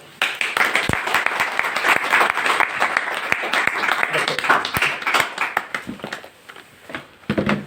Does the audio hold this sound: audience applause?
yes